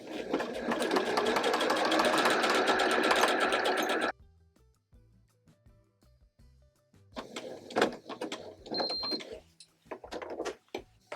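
A sewing machine stitches a buttonhole in a rapid, loud, steady run of about four seconds, then stops. Quieter clicks and handling sounds follow, then short irregular bursts of stitching.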